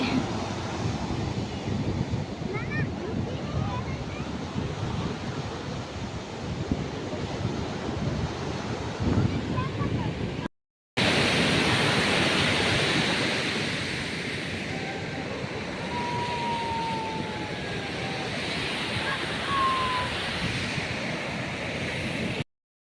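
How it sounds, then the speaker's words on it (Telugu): Constant rushing of flowing water with heavy wind buffeting the microphone, briefly cut by a short silence midway. "అమ్మా చూడు వాటర్ ఎట్లా వస్తుందో"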